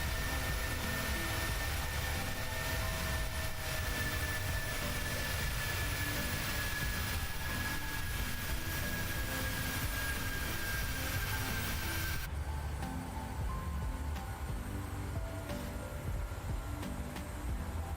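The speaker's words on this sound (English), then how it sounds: "Let's get them spool up sounds from the outside," PMDG 737 jet engines in Microsoft Flight Simulator spool up, heard from outside as a steady loud roar with a rising whine, then turning darker and more muffled partway through, with no talking.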